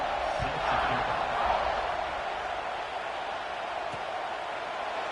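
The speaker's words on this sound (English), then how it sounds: "this crowd is buzzing after that last score" A college football stadium crowd in the College Football 26 video game buzzes after a score, a dense, even roar of many voices at moderate distance with a few faint thuds, sustained throughout.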